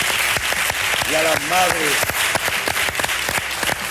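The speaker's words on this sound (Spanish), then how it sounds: "Vamos a dar un aplauso a todos los abuelos de este país" Studio audience applauding in a television show, a broad steady wash of clapping throughout while someone speaks over it.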